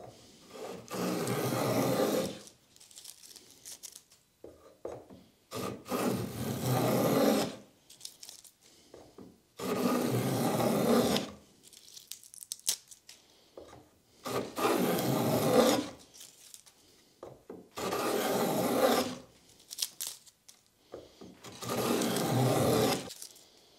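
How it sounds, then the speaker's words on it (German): A hand plane cuts a groove in wood in six rasping strokes of about two seconds each. The strokes are close and evenly spaced, with quiet handling noises in between. "jetzt wollen wir hier wie gesagt noch einmal für unsere Nutklötze die Nut anfertigen"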